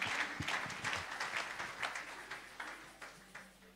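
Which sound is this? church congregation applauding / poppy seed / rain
church congregation applauding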